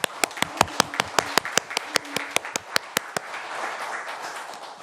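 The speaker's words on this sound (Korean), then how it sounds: "우리가 함께 축하 박수로 이렇게" Applause in a city council environment and welfare committee meeting honouring a retiring official: a few people clap in sparse, separate claps for about three seconds, then it fades into quiet room tone.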